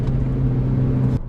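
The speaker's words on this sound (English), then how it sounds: "It literally made the intake induction noise so much better." Mini Cooper S fitted with a CravenSpeed cold air intake, its engine giving a steady low humming induction drone that holds for about a second before cutting off abruptly.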